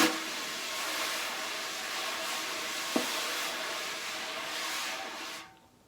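A steady soft swishing hiss of wire brushes sweeping a snare drum, with one faint tap partway through, fading out at the end.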